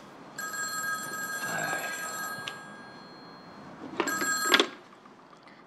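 An old telephone bell rings indoors in two separate bursts, the second louder and closer, with a brief exclamation from a voice between them.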